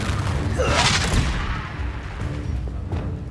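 A Confringo fire spell in Hogwarts Legacy blasts with a booming explosion that sweeps upward in a whoosh. A deep rumble follows and fades under lighter thuds.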